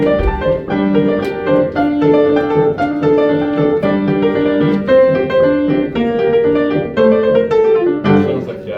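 A tenor-bass choir section sings a quick, bright banjo-like accompaniment figure, with a steady rolling rhythm over sustained notes for several seconds.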